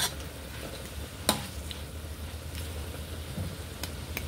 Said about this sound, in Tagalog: Ihalo ko na rin yung aking hipon